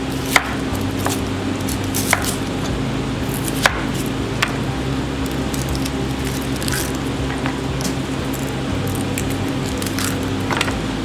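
A knife slicing through an onion on a cutting board, sharp evenly spaced chops and crunches repeating every second or two, close and clear over a faint steady hum.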